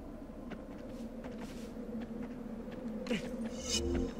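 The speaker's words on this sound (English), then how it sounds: "Yeah, that's a honeybee hive." A honeybee hive buzzes faintly in a video game, a low steady drone with brief rustles and clicks on top and a louder burst near the end.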